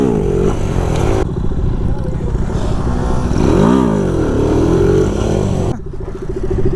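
Revving NS 160 motorcycle engine held up during a wheelie, loud and close, with throttle swells and a dip near the end; voices talk over it.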